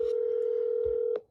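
A steady telephone dial tone hums while a call is placed on a phone, holding at an even pitch for over a second before cutting off, with a faint click near the end.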